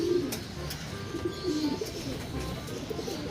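Racing pigeons coo softly in a loft on a cold evening, low repeated calls over steady background hum, with no talk.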